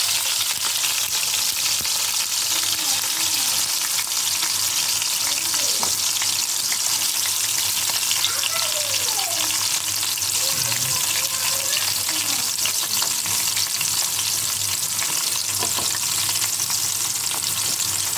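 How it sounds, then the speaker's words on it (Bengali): Broiler chicken pieces frying in hot oil, a steady dense sizzle running throughout with faint scraping from stirring and some water-like clatter in the background. "তার জন্য আমরা একটু তেলে ভেজে নেব।"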